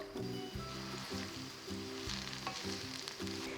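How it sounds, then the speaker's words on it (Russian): Chopped onion frying in hot vegetable oil in a pan, a steady close sizzle throughout with a repeating rhythmic scraping or stirring pattern and no talk. "Разогреваю сковороду с растительным маслом и выкладываю лук."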